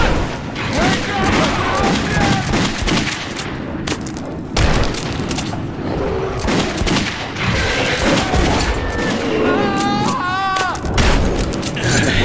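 Gunfire in the video game Metro 2033 Redux: a dense fusillade of sharp, loud shots and bursts cracking in rapid succession, with booms and shouting voices mixed in.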